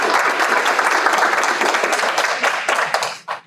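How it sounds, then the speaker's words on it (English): A theatre audience claps together before a final performance of A Raisin in the Sun, a full, even burst of applause that thins out and fades in the last moments. "give yourselves a round of applause for being here today"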